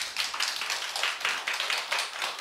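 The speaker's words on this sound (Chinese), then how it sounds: "鼓掌你就让我听到了" Lecture audience clapping together in a hall during a talk on classical Chinese poetry, a brief burst of dense, even applause that swells and fades in waves, fairly loud and without voices.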